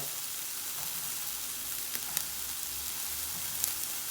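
Egg and crumpets fry lightly in a pan on the hob with a soft, steady sizzle and a few small crackles and pops, quiet and alone.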